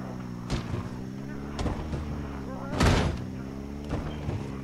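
Gunfire in the video game Project Zomboid, a few dull booming shots spread out with one heavier burst, under ongoing talk and a steady engine-like drone.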